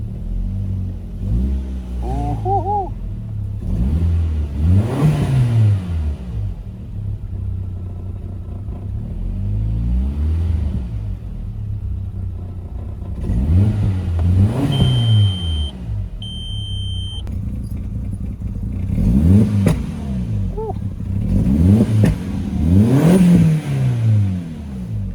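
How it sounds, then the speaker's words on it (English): A cold 2000s Volkswagen Jetta MK4 Wolfsburg edition engine idles and is revved repeatedly, each rev rising and falling in a loud, close rumble, with a brief exclamation from a voice. "Give it some revs."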